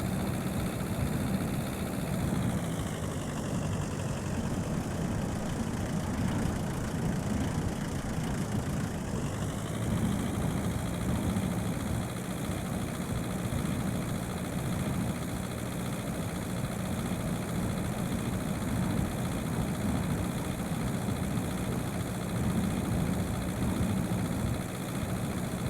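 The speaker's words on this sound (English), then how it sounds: "One thing I really like about this truck is that it is a diesel engine" Diesel truck engine in the driving game The Long Drive, running steadily with a low rumbling drone and a shift in pitch partway through, loud and continuous with no talk.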